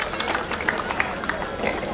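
An audience at a school's annual function claps in a brief, scattered burst of moderate handclaps mixed with crowd murmur.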